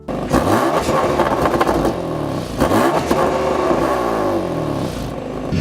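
Sports car engine revving hard and chugging at low revs, a steady loud rumble with rising and falling surges of throttle, no voices.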